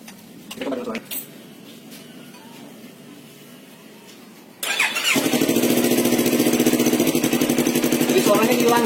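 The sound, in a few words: Yamaha R25 engine with Sakura exhaust and two dB killers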